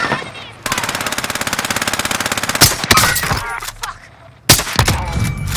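Call of Duty: Modern Warfare gameplay in which a fast, steady machine-gun burst rattles for about two seconds, then sharp single shots and heavy impacts follow, loud and close.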